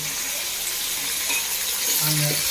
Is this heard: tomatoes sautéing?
yes